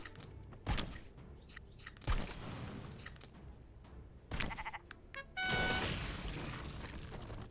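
A sheep in a video game lets out several separate bleats in short bursts. Between them are quieter stretches, and a longer, clearly pitched bleat comes near the end.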